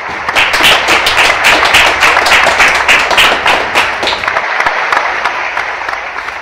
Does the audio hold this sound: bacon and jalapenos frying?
no